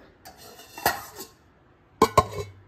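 A lid set onto a bowl of ragi dosa batter in a kitchen: a soft clink, then a pause and two quick metallic clatters close by, with no talk.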